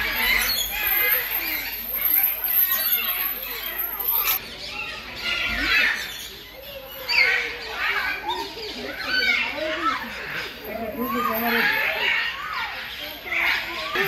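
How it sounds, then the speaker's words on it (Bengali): In an aviary at a safari park, macaws, parrots and cockatoos keep up a constant, busy chatter of squawks and shrill calls. Several overlap at once, some near and some farther off. "পাখিদের ডাকাডাকির শব্দ"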